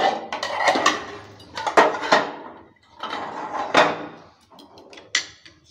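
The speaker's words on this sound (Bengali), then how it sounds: "2 মিনিট হয়ে গেছে, ঢাকনাটা এবার তুলে নিচ্ছি।" A lid comes off a pan while making mini chitoi pitha, giving several clattering metallic knocks and scrapes in uneven bursts, close and fairly loud.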